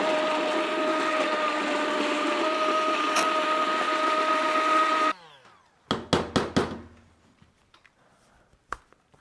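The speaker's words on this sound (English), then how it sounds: "I'm going to run this immersion blender," An immersion blender whirs steadily through smoked and oven-roasted garden yellow plum tomato soup, then cuts off, followed by a few sharp knocks and clatters of the blender against the pot.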